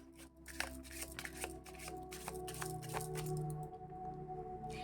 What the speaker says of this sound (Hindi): Let's take some more cards, let's see what angels wants to give you.